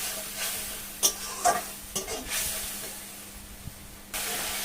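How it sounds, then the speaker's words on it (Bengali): Spice masala being stir-fried for a catfish curry: a soft, steady sizzle broken by several scraping strokes of a spatula in the pan, then a brief louder hiss near the end. "এবার মশলাটাকে ভালোভাবে কষে নেবো আমি।"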